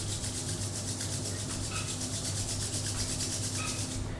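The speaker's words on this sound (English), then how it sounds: "now join your hands, rub them," Palms rubbing together steadily to warm them during a yoga class for back pain, a continuous close, even friction hiss with no talking.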